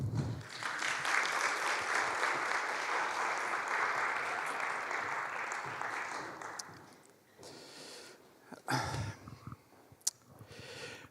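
A church congregation gives a warm round of applause for a couple, the clapping swelling fast and holding steady for several seconds before tapering off into scattered claps and a speaking voice.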